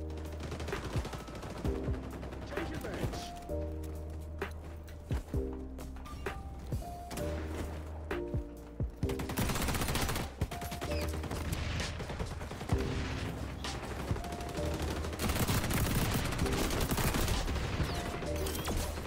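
Bursts of automatic gunfire in the shooter XDefiant, rapid crackling volleys and single shots in quick succession over a dense battle backdrop, with a heavier sustained barrage in the second half; no talking.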